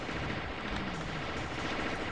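Gunfire rattles in a dense, continuous burst from a weapon in the Alien Shooter video game, a steady loud wash of rapid shots with no pauses.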